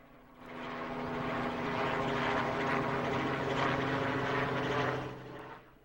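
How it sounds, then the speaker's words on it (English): A helicopter's rotor roar swells in over Detroit, holds loud and steady overhead for several seconds, then fades away. "they have good helicopter action in Detroit"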